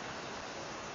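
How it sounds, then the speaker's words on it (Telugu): Water from Lakkom Falls in Munnar rushes in a steady, even hiss, faint and distant, with no voices over it. "అది వాటర్ సౌండ్ మీకు వినబడి ఉంటుంది."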